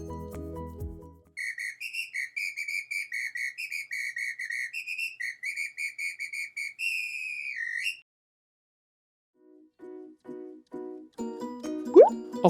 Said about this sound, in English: Samba Whistle.